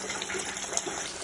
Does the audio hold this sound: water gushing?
yes